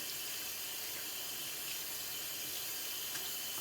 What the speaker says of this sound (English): I'm going to turn on the water to about lukewarm